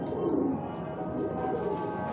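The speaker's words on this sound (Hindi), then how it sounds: "ये मानी भाई के पुराने कबूतर हैं।" Several pigeons coo in low, overlapping murmurs on a rooftop loft, continuous and moderately close, with no talk over them.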